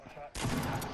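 Gunfire in a battle royale video game, a loud, abrupt burst of rapid shots erupting after a brief quiet moment and continuing densely to the end.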